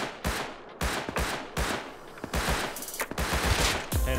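Gunshots in the survival game Rust land as loud, sharp bursts and short volleys in an irregular rhythm, close and punchy, with no talk over them.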